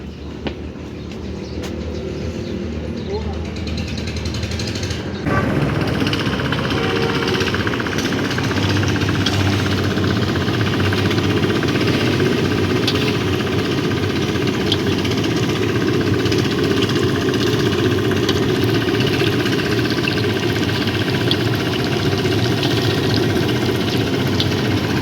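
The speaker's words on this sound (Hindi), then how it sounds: "सड़क पे रश है, शोर है।" Dense, steady roar of busy road traffic beside a river, loud and continuous, with engine rumble and a heavier surge after the first few seconds, no voices.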